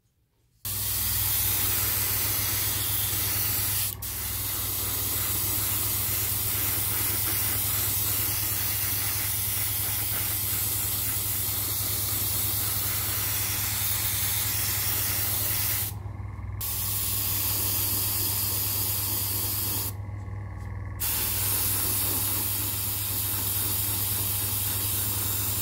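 Airbrush spraying a Vallejo white grey base coat mix onto a 1/72 Millennium Falcon model kit, a steady loud hiss that runs nearly the whole time with two brief pauses near the end, close up and with no talking.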